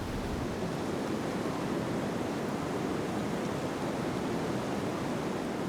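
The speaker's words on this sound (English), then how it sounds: "Larger volumes of water crash down here more than anywhere else in Europe." Dettifoss waterfall in northern Iceland, a huge volume of water plunging down, heard as a steady broadband roar of crashing water, constant and unbroken, with some wind buffeting the microphone.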